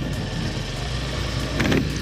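Honda Tiger Revo 2012 motorcycle engine running steadily at a smooth idle, a close, continuous low hum with a slight swell near the end.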